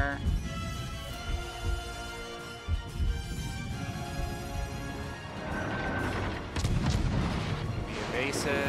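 Naval artillery from the ship Benson in World of Warships Legends, heard as heavy booming gunfire and deep thuds among mechanical battle noise and game voices.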